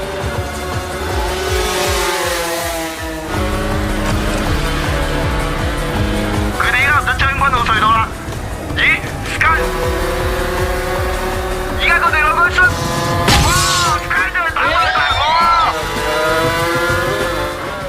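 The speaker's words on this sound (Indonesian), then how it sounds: "Balapan malam itu sangatlah seru, dengan raungan ganas khas mesin 2 tak bertenaga" Two-stroke 250cc motorcycle engines scream in a night street race, revving hard and whining up and down as they pass. Loud and continuous, the racing noise runs under film-style narration and soundtrack with occasional squeals.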